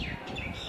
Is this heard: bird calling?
yes